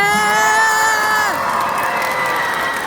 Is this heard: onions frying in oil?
no